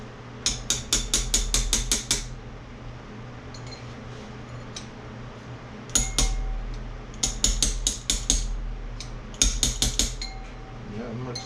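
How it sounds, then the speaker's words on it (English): A small wrench taps parts down during a KLX110 engine rebuild with a 155 stroker kit, producing loud, close metallic clinks in rapid bursts of about eight to ten strikes, separated by short pauses. "Sometimes you can just take you a little wrench that fits,"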